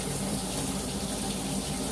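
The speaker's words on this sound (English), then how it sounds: "Draining pretty good." Water draining steadily through a cast iron drain, heard as a close, continuous rushing and gurgling wash of even loudness with no pauses.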